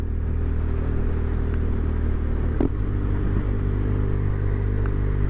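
A BMW R1200 R motorcycle engine braking while rolling downhill in gear, a steady low rumble and whir that stays even throughout, with no voices.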